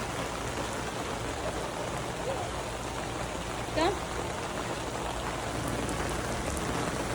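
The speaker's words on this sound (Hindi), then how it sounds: "बहुत तेज बारिश स्टार्ट हो गई है।" Heavy rain pours steadily in a loud, even hiss across an outdoor pool area, with a brief voice calling out midway through.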